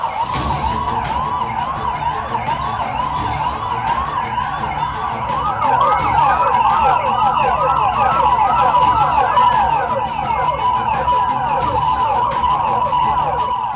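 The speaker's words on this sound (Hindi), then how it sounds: "सायरन की ये आवाज आगाह करने के लिए नहीं, बल्कि उन योद्धाओं के प्रति आभार प्रदर्शित करने के लिए है" Emergency vehicle sirens in Chennai, sounded as thanks to front-line coronavirus workers, wailing in repeated rising and falling sweeps and overlapping as several units join in, loud and continuous over a street.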